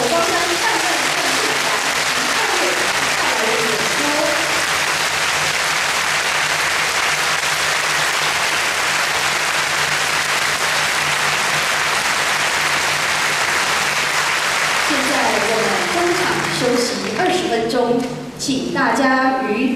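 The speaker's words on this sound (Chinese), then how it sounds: "让我们再一次热烈的掌声，" A concert audience at a 2012 Buddhist chant music performance bursts into loud, sustained applause that fills the hall, then thins as voices and music begin near the end.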